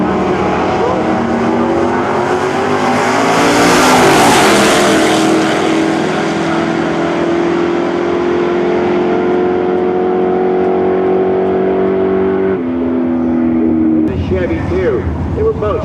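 Drag racing cars, including a Chevrolet Nova, roar loudly down the strip at a March Meet race, engine tones rising and sustained with a commentator talking over them throughout.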